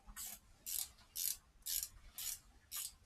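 Hand wrench ratcheting during a V6 KLDE engine swap into a Mazda Protege5 wagon, heard as six evenly spaced bursts of quick metallic clicking, close and quiet with no talk.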